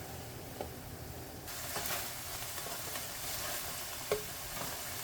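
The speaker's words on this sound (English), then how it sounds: "Don't just stop frying when the color changes, but keep frying it until the moist starts to run out." Minced meat frying in a pan for a one-pot spaghetti Bolognese, a soft continuous sizzle with occasional scrapes and clicks of stirring, fairly quiet and without talk.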